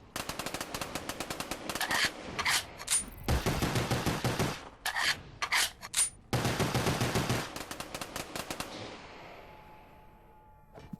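Rapid bursts of gunfire from a shotgun in a Call of Duty Zombies video game, loud and close, firing in dense volleys broken by short pauses before trailing off at the end.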